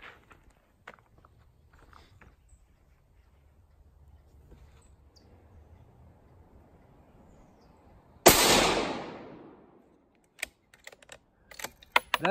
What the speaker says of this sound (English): We'll do a 3 or 4 shot group.